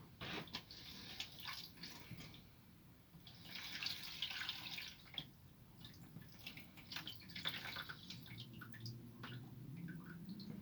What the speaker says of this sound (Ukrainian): звісно, заливаємо цей спис. Бачите, так? Його просто заливаємо.